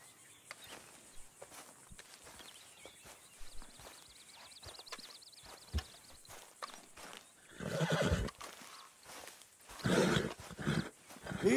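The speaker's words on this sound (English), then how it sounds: "I've run across half the map trying to chase down this horse." A horse in the Red Dead Redemption 2 video game whinnies and neighs over quiet ambience, followed by louder clopping hooves and rustling movement toward the end.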